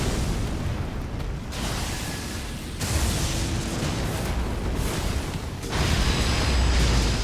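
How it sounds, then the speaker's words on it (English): Booming explosions in the Elden Ring video game, played in a randomizer speedrun, roll out as a sustained heavy rumble with several fresh blasts swelling in succession, loud and alone without speech. "Ooh, big explosion"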